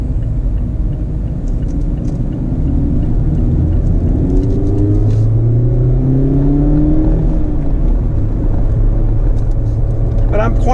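The engine of a 2019 Mazda MX-5 RF hums and rises and falls in pitch through heel-toe downshifts. The sound is steady and close inside the cabin, and someone talks over it.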